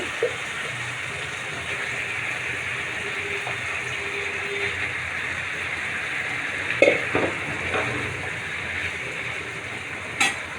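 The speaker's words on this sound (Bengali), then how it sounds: "আমি একটু মশলাটাকে কষিয়ে নিচ্ছি তারপরে আমি মাংস এবং আলু একসঙ্গে দিয়ে দিব এখন আমি দিয়ে দিচ্ছি মাংস" Meat goes into masala frying in a pan, a steady hissing sizzle with a few scraping and clattering bumps as pieces land and shift.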